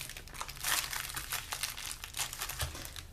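A popcorn treat slid back into its crinkly plastic packaging, giving a close, brisk run of crinkling and rustling that lasts a few seconds with no voices.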